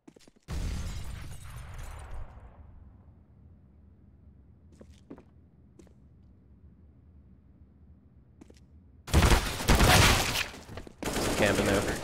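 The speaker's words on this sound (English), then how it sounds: "Throwing a grenade." A grenade blast in the Tribes shooter game bursts loudly near the start, then low rumble lingers with a few faint clicks before two further loud bursts of gunfire or explosions toward the end.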